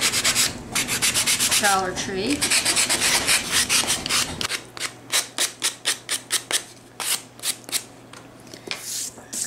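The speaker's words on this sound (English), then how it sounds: "I'm just going to sand the edges" Rhythmic scraping strokes of a sanding block rubbing along wood edges, close up, in short repeated bursts with a brief spoken word early on.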